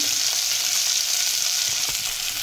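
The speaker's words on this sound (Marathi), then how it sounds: "तर चांगला कांदा मी परतून घेते" Chopped onion frying for masala rice with green peas, a steady close hiss and sizzle in a hot pan, continuous and fairly loud, with faint stirring ticks and no talk.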